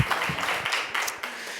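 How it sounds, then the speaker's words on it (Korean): A brief burst of church congregation applause during a Sunday worship service, a short dense patter of clapping in a room. "박수로 민망함을 무마해 보시죠"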